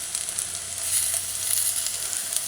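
Garlic and onion sizzling in a pot, a bright steady hiss of frying with crackling pops close up, constant throughout and with no talking.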